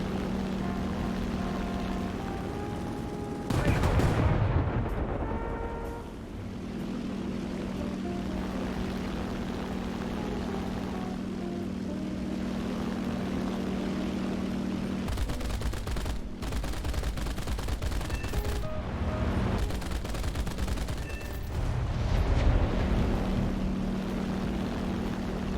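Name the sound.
bombs dropped on ground targets from an early plane in War Thunder video game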